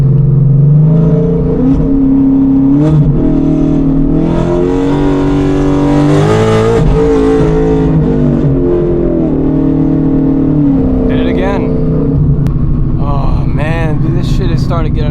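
Whipple supercharged S650 Mustang accelerating, its engine note rising loudly and steadily through the gears with a strong supercharger whine, recorded from inside the car, with someone talking over it.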